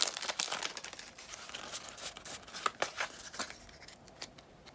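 Quiet crinkling and tearing of foil as Pokémon trading card packs from Evolving Skies are opened, with irregular close crackles and rustles continuing throughout and no voices.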